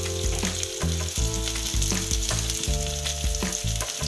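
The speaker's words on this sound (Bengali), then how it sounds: "এটা দিয়ে একটু ভেজে নিচ্ছি" Onion and capsicum frying in a pan with a sprinkle of turmeric and salt, giving a loud, steady sizzle broken by regular scraping stir strokes, with no talking.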